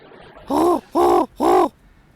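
A person mimics a crow's caw with three loud, hoarse calls in even succession, each lasting about a quarter second, separated by short pauses.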